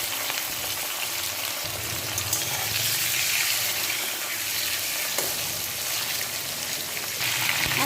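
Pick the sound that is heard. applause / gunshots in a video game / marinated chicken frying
marinated chicken frying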